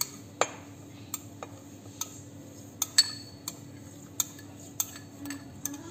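A spoon stirs milk, yeast and sugar in a bowl, sharp metallic clinks and taps recurring irregularly over a quiet room.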